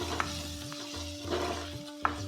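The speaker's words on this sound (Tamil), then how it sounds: "தேவையான அளவு கருவேப்பிலை சேர்த்து நல்லா வதக்கி விட்டுடலாம்" Curry leaves sizzle in hot oil in a frying pan, with a constant crackle and a few sharp scrapes of stirring.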